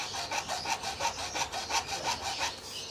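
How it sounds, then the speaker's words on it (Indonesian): A hand hacksaw cuts with steady back-and-forth strokes, about a dozen even rasping passes close by, with no voices over it. "Kalau pakai gergaji besi yang ada gagangnya juga boleh."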